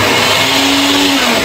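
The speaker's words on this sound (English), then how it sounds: "Turn on the blender." A blender runs at full power in a home kitchen, a loud, steady whirring motor drone that holds for the whole moment with no pause.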